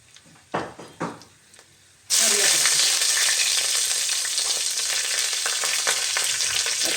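Mustard seeds and chili hit hot oil for a tilapia fish curry, setting off a sudden loud, steady sizzle after a few soft knocks and clinks, and the frying crackles on continuously.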